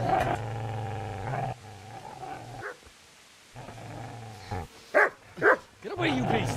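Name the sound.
dog barking in video game Kingdom Come Deliverance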